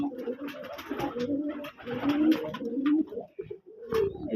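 Native pigeons at a pigeon farm in Manikganj coo in overlapping, throaty rolls close by, with several birds calling in uneven bursts and brief pauses between.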